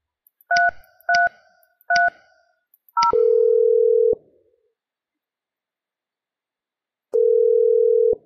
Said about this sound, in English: Dial James extension 3330.